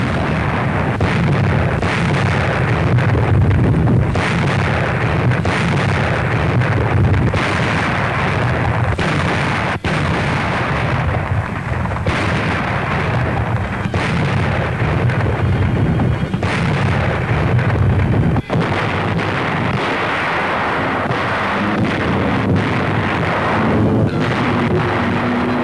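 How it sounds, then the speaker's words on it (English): Warships and landing craft shell shore defences about 1.5 miles offshore between Le Havre and Cherbourg while coastal batteries fire back: a continuous, loud rumble of heavy gunfire with repeated booms and no pause. "Landing craft and warships blasting the shore defences, coastal batteries reply."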